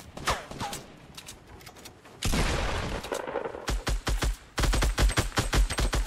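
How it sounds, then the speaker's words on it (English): Video game firefight with bursts of rapid gunfire and a heavy grenade blast in the middle, followed by more loud, close, rhythmic volleys of shots. "Grenades."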